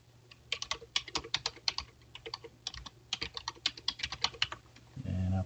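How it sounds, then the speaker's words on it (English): Someone types an email address on a computer keyboard in quick, irregular bursts of close, crisp keystrokes, followed by a brief louder rustle at the end. "by typing in my email that I signed up with."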